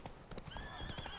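A galloping horse, Roach from The Witcher 3, drums out quick clip-clop hoofbeats with a whinny mixed in, close and fairly loud in a short burst with no talking.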